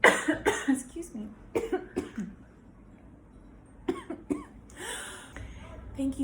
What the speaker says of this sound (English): Thank you for excusing me while I was coughing.